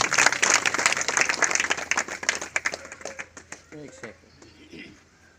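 An audience applauds at a village meeting, a dense wash of many hands clapping that thins into scattered individual claps as it fades, with a voice talking over the tail end.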